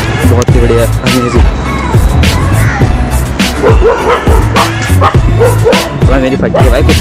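Several dogs bark and yip loudly near bushes along an outdoor path, repeated sharp barks overlapping with excited voices talking throughout.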